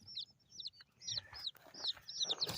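Black and Blue laced Red Wyandotte chicks fresh from a hatchery box give quiet, repeated high cheeps and soft clucks in short bursts, close by and faint.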